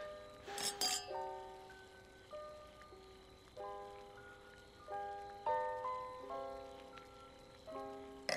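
Red wine glasses clink together in a toast over a hotpot meal, a brief bright chime near the start, followed by soft melodic music.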